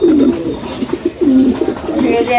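A domestic pigeon coos close by, repeated throaty rolling calls in a loose rhythm, loud and clear with no voices over them.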